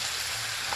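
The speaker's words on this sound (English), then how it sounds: "We're gonna dump the meat in. Ooh, listen to that sizzle." Meat sizzling as it hits a hot frying pan, a steady dense hiss of frying that stays loud and even throughout the short moment, with no voices over it.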